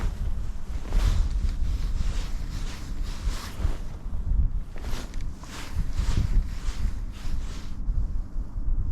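Strong wind buffeting a small boat out on the water, a continuous rough roar with gusty swells rising and falling, loud and close to the microphone, with no talking.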